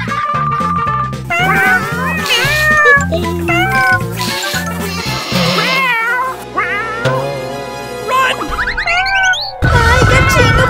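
A cartoon kitten meows repeatedly over bright, busy music with bouncy sound effects, the high mews loud and close, sliding up and down in pitch.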